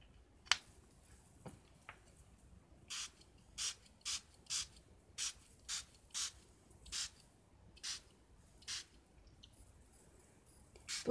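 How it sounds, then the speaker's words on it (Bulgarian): Liquid paint spritzed from a spray bottle onto a mixed media cover, about a dozen short, sharp hissing puffs in a fairly steady rhythm after a few faint taps, close and alone with no talking. "Посоката, в която пръскам, разнася течността на където и желая."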